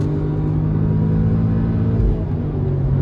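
Audi S3 engine pulling hard under acceleration, a steady low rumbling drone heard from nearby, continuous and fairly loud, with a slight swell near the end.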